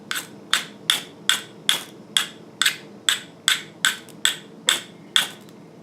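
A Georgia firesteel ferro rod is struck about thirteen times in a steady rhythm, each a sharp scraping rasp close by, evenly spaced with short quiet gaps between.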